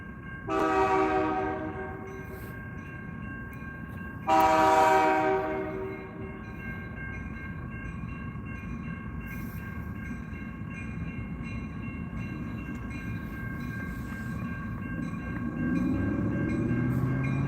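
A train sounds two long blasts of its horn, then rumbles steadily past with a continuous rolling drone that swells again near the end.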